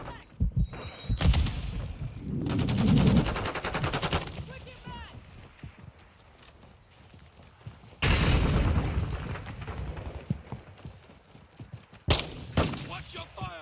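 Video game gunfire, with loud bursts of rapid automatic shots and booms in two main stretches and quieter action between, with voices in the mix.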